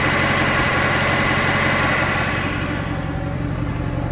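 A 2011 Mercedes-Benz SLS AMG Gullwing with its front-mid-mounted engine idles close by, a deep, steady rumble with a throbbing low end that eases slightly toward the end.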